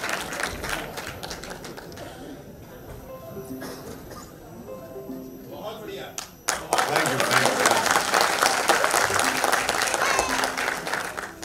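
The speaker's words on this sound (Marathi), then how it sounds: "जरा जोरदार टाळ्या आपण वाजवूया जोरदार टाळ्या तिन्ही मंडळींसाठी" A crowd bursts into loud, sustained applause after a stretch of quieter sound and talk, the clapping dense and continuing to the end.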